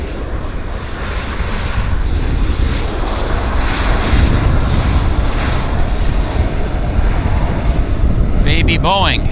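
A small Boeing jet airliner landing at Vancouver airport, its engine roar loud and sustained throughout while someone talks over it.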